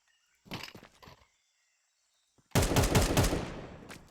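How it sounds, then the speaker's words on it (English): M4 rifle fire in a tactical shooter game: a short burst of shots, a pause of near silence, then a louder rapid automatic volley that rattles for about a second and a half before fading. "you can hear this guy blasting M4 bullets"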